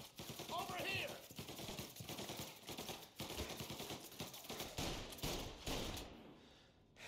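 Rapid Tommy gun bursts in the video game Mafia, loud and close, sounding in repeated rattling volleys amid other game action, with a voice briefly heard.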